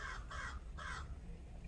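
A crow caws three times in steady succession outdoors on a nature walk, loud and fairly near against a low background rumble, with no talking.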